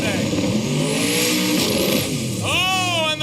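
A drag racing car roars at full throttle as its tires spin and squeal, a loud sustained engine howl. An excited announcer talks over it throughout.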